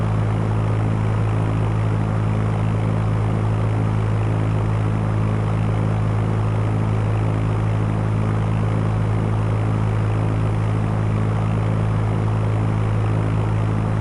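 Simulated fixed-wing aircraft engine droning steadily in flight over Chicago in the game Fly! II, a constant loud propeller hum with no variation or talk for the whole stretch.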